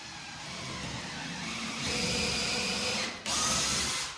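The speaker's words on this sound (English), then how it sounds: "grab your drill" A power drill whirs steadily for a few seconds, rising in pitch, then cuts briefly and starts again, fairly quiet.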